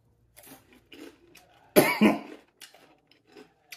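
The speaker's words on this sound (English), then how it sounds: "Coughing already." Two sharp, close coughs burst out back to back, set between quieter breaths and small mouth noises.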